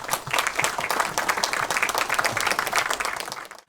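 Dense applause from a political party gathering welcoming the party leader, steady crowd clapping throughout before stopping abruptly at the end.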